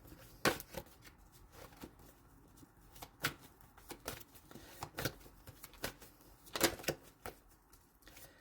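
Tarot cards being shuffled, a series of quiet, irregular riffling snaps and flicks with short pauses between bursts, close by and unaccompanied by speech.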